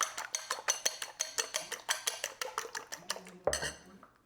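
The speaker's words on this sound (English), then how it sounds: "Let's go ahead and whisk the eggs." Three eggs whisked in a bowl with a metal whisk, giving a quick, steady rhythm of bright clinking taps against the bowl, close and fairly soft, ending in a louder clatter.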